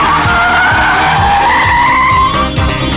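A Holden Monaro spins round on tarmac, its tyres skidding in a loud, sustained squeal with wavering pitch over the rumbling engine, close and continuous with no talk.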